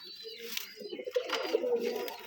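A pair of Rajshahi giribaj pigeons coo in short, throaty bursts, rising and falling through a couple of soft calls, close by and moderately quiet.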